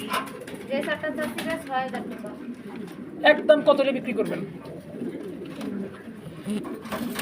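Pigeons at a pigeon farm give soft, repeated cooing close by, mostly beneath steady conversation between people.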